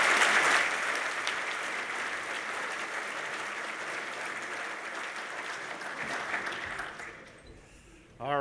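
An audience at an awards dinner applauds loudly and steadily for several seconds, the clapping gradually thinning and fading out, with a voice starting to speak right at the end.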